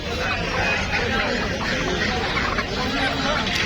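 At the Hamidpur village poultry market, chickens and ducks cluck amid a dense, loud crowd babble, with people talking nearby.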